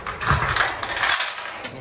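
Junkyard car engine running steadily with a rough, continuous broadband rumble and rattle, close and fairly loud, with no talking over it.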